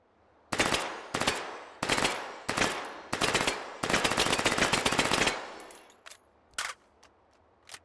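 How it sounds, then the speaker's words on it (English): Target-practice gunfire in the VR game Hot Dogs, Horseshoes & Hand Grenades on an HTC Vive: loud, close bursts of rapid automatic fire in about six strings with short gaps, then a few isolated single shots trailing off. "Practice your shooting."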